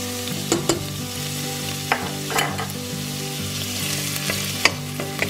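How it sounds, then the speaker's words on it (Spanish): Onion fries in a tablespoon of hot olive oil, giving a steady close sizzle with occasional stirring clinks and scrapes, while music plays in the background. "La vamos a freír un poquito."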